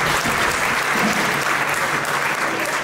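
Audience applause filling a concert hall in Novi Sad, a loud, dense, continuous clapping from a large crowd that holds steady throughout.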